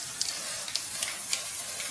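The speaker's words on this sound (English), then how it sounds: "I'm just going to give this a shake, and I'm just going to spray this over just to give it a nice lustre effect" A can of lustre spray hisses in a continuous close, bright stream over a buttercream flower, with a few short sharper bursts as the spray pulses.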